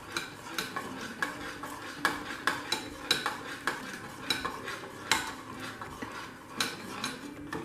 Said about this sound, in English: So I have added the spinach and I'll mix it together.